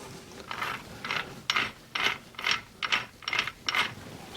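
Suzuki TS 250 motorcycle transmission gears, with shift forks fitted in the case, spin with a steady rhythmic ratcheting click, about two bursts per second, close up and with no voices.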